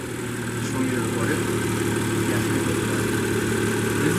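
A BMW F22 M235i engine fitted with a Burger Motorsports air intake idles close to the microphone, a steady, even drone that rises slightly after the first second and then holds.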